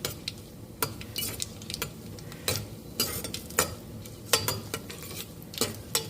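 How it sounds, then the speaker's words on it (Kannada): Cashews roasting in a pan for coconut milk pulav, with a spatula scraping and clinking against the metal at irregular intervals over a soft, steady sizzle, close by and with no talk. "ಗೋಡಂಬಿ ಎಲ್ಲ ಒಂದು ಚೂರು ಗೋಲ್ಡನ್ ಬ್ರೌನ್ ಬರೋವರೆಗೂ ಸ್ವಲ್ಪ ಹುರ್ಕೊಳ್ಳೋಣ."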